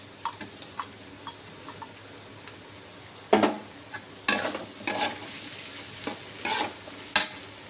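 Bitter gourd with sautéed shrimp, ginger-garlic paste and turmeric is stirred in a frying pan, with a soft sizzle beneath and several loud scraping strokes of the spatula, some close together.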